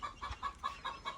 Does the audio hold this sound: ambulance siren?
no